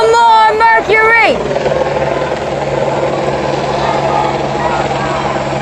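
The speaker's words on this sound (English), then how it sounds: "We had a helicopter right over our head." A helicopter flies low over an outdoor rally in Atlanta, its loud, steady rotor drone filling the scene after a burst of crowd chanting at the start.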